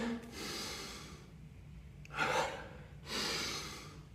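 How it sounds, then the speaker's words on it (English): Deep recovery breaths drawn through the nose after strenuous burpees, heard while seated. Three slow, close inhale-exhale cycles rise and fall in a steady rhythm with no talking. "Sitting tall, diaphragmatic breathing. Breathing through my nose."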